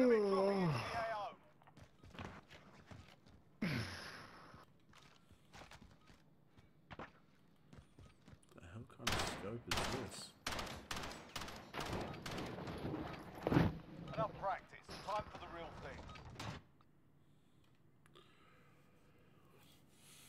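Gunfire in Call of Duty Warzone: scattered sharp shots and short rapid bursts, some clustered into quick volleys, mixed with footsteps and heard under frequent talking.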